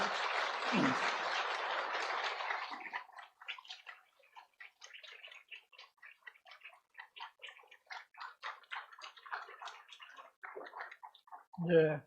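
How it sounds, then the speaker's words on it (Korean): A church congregation claps steadily for about three seconds at a pastoral installation service, then the applause dies away and someone talks in Korean. "박수 보내주시기 바랍니다."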